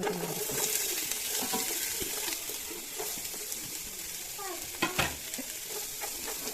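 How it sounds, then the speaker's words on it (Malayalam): Ginger and green chili paste sautéing in a pan for prawn fried rice, a continuous close sizzle with scraping stirs and a few sharper clicks of the spoon, fairly quiet, no speech. "ഇഞ്ചിയും പച്ചമുളകിൻ്റെ ആ പേസ്റ്റിൻ്റെ പച്ച മണം മാറുന്ന വരെ ഒന്ന് വഴറ്റി കൊടുക്കാം"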